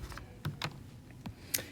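Someone types on a computer keyboard, likely one-handed while entering a formula, giving a few sparse, uneven clicks close by with short pauses between keystrokes.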